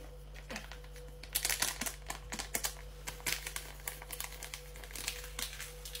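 Paper sachet of baking powder being torn open and crinkled in a home kitchen, a run of small, close crackling and rustling sounds over a steady low hum, fairly quiet with no talk.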